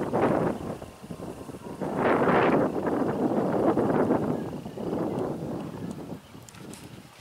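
Gusty wind buffets the microphone outdoors in the woods, rising and falling in loud rumbling waves with no voices.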